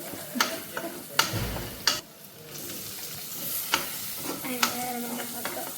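Stirring a sambar mixture in a cooking pan, with a soft scraping and clinking of the spoon and several sharp taps, over a light sizzle with brief pauses.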